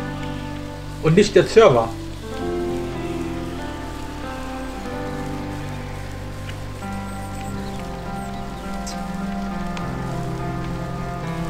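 Rain from a rain mod in a Minecraft-style game falls in a dense, steady patter, while someone speaks German over it and brief music-like tones sound near the start.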